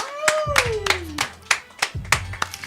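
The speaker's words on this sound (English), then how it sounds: "Clap it up for Ken." A small group claps in a radio studio after a listener wins studio time, a handful of sharp uneven claps, near and fairly loud, with whooping voices and a rising then falling vocal cry over the start.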